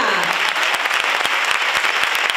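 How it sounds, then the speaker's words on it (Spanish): An audience at the Feria Real de San Roque 2023 applauds the newly crowned youth queen, loud, dense clapping close by with sharp individual claps standing out, continuing throughout. "Fuerte aplauso para nuestra chica."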